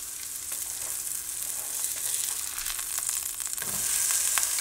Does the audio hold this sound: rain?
no